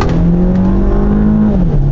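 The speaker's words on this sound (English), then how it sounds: "Awesome sound from the engine" A 2012 Range Rover Evoque engine pulls hard under acceleration, a loud continuous drone with a steadily rising pitch that dips briefly near the end as it shifts, recorded close from inside or beside the car.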